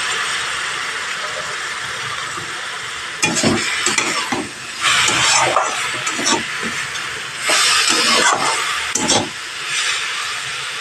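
Radish and shrimp cook in a pan with a splash of water, giving a steady hiss and sizzle broken by several louder bursts of stirring and scraping.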